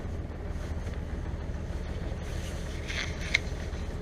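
A boat under way near rocks gives off a steady low engine and water rumble with wind noise on the microphone, continuous and fairly loud throughout, with a faint brief click near the end.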